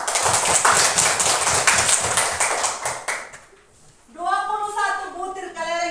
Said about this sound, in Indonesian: mari kita beri tepuk tangan buat teman, 2 orang teman, yaitu Putri dan Nerisa